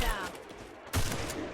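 Rapid bursts of gunfire in the Free Fire battle royale game during a tournament match, loud, dense shots with a fresh volley about a second in, heard up close.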